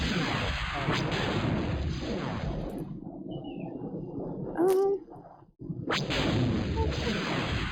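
Star Wars: Rebellion battle effects come through as a dense, loud barrage of laser fire and explosions that drops away briefly near the end before resuming, with speech over the top.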